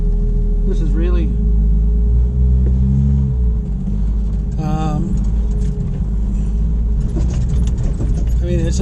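A Jeep in four-wheel drive crawls along an established trail near an old mine site, its low engine rumble steady and loud with rattles and creaks from the vehicle, while someone talks over it.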